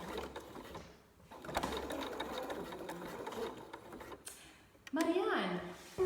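A sewing machine stitches T-shirt fabric in short bursts, including a brief backstitch, its rapid mechanical whirring starting and stopping while people talk nearby.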